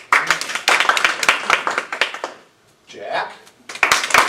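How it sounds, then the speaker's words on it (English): A Toastmasters club audience at an anniversary celebration gives a short round of applause, loud close clapping that stops abruptly, followed by a brief spoken interjection and then renewed clapping. "How about with a round of applause?"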